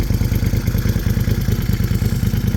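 A Moto Guzzi Griso 1200 motorcycle engine runs warmed up after a cold start, a steady, loud, close pulsing idle with a rhythmic low thump and faint mechanical clatter, no talking.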